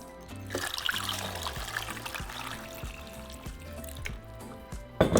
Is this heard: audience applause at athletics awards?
no